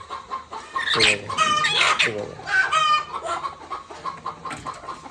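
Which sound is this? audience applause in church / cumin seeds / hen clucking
hen clucking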